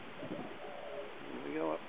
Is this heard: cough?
no